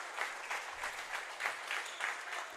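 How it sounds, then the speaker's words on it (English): Fans at a high school volleyball tournament clap together in a steady rhythmic beat during a match point. The clapping is moderately distant, with no talk over it. "Hawks fans clap the hands."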